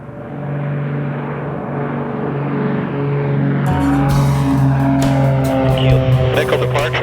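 Small propeller plane fitted with a vortex generator kit roaring through its takeoff run and lifting off, steady engine drone with rising wind and rattle noise, a voice talking over it in the cockpit.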